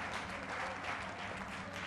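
Audience applause in the Tintin: The Secret of the Unicorn video game, a steady wash of clapping from a crowd heard throughout, fairly faint and with no speech over it.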